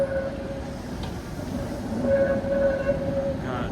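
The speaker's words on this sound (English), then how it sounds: "Double tram." A double-coupled tram rolls past on a city street in Brno, a steady rumbling rail noise with a thin wheel squeal that swells slightly as it draws near, heard alone without talk.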